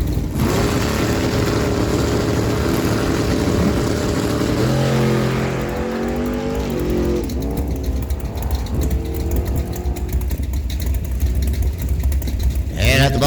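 Engines of a 1987 Ford Ranger and a front-engine dragster at a drag strip, a loud steady roar with rising revving tones midway as the cars launch, continuous and close throughout.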